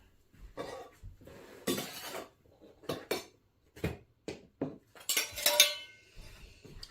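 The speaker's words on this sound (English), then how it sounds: "here is the first naan going into the bowl" Naan bread set into a bowl amid clinking dishes and cutlery, a run of sharp, close knocks and clatters spaced irregularly over several seconds with quiet gaps between.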